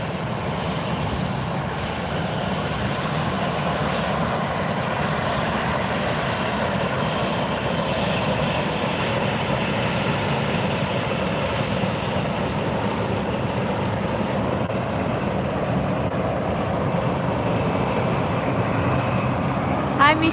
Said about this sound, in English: taxiing up now, United Airlines. Going to be headed to Houston. This is going to be flight 2162, 737-900 ER.